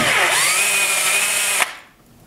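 A power drill backs screws out of the plate on a Harbor Freight mini mill, a loud, close, high motor whine held steadily for over a second before cutting off into quiet room noise.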